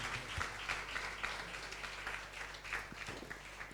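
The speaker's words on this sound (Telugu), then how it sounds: "బాగుంటే చప్పట్లు కొట్టండి" Sunday worship congregation in a church applauding together, a steady crowd clapping of moderate loudness held for several seconds.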